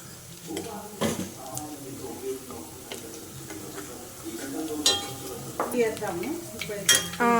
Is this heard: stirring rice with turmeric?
yes